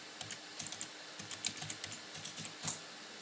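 Computer keyboard keys tapped out in an irregular run of close, crisp clicks while login details for a WordPress site are entered, with no voice present.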